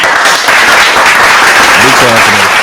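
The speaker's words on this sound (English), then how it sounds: "Let me give them another round of applause." Loud, dense applause from a crowd fills the whole stretch, with voices calling out under the clapping toward the end.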